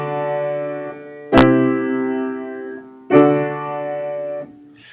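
Subtonic chord built on the lowered seventh scale degree, played as two sustained chords with sharp attacks, each ringing with bright stacked harmonics before decaying, close and clear with no voice.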